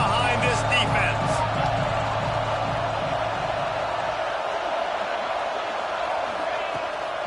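Continuous stadium crowd noise in a college football video game, a loud dense roar that swells and holds, with a commentator talking over it at the start.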